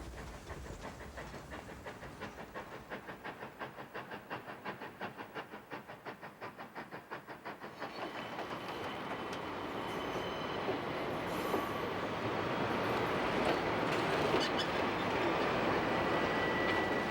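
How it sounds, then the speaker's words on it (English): Vintage narrow-gauge railroad train with parlor cars and a diesel engine, heard first as a rhythmic clatter of wheels over rail joints, then building into a louder continuous rolling roar with occasional squeals. "Today, you can still ride the narrow-gauge railroad to Lake Bennett."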